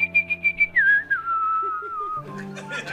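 A person whistles a melodic tune, starting with short repeated notes, then a long sliding note that drifts downward, close and clear.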